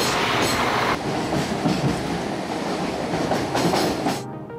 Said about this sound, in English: We are about to take the train for the first time